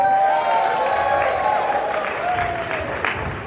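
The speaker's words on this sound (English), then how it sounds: "Give a round of applause to yourself one time." Wedding reception guests applauding themselves, a dense wash of clapping and some cheering over which a sustained sung or held tone glides, loud and continuous throughout.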